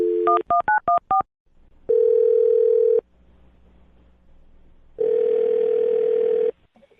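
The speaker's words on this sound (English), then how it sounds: "I'm going to dial her phone number right now" A telephone dials a number: a quick series of touch-tone beeps, then two long, steady ringback tones separated by a quiet gap, loud and close with no talking.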